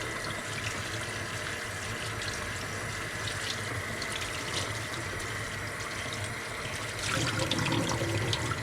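Tie-dye shirt being rinsed under an indoor running tap, a steady rushing splash of water, close and continuous, getting louder near the end.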